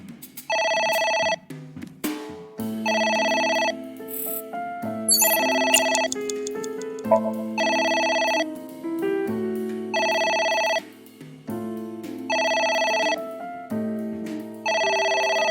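Telephone ringing in the video game AI: The Somnium Files, a repeating electronic ring in regular bursts with short gaps, clear and steady throughout.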